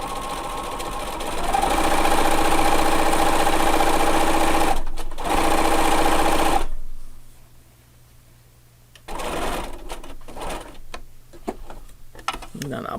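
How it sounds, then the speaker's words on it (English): A sewing machine runs loud and steady at close range, stitching a quarter-inch seam on a dog collar, then stops abruptly, leaving a low hum before handling noises and a voice follow. "now come forward again, and I'm sewing a 1/4 inch seam"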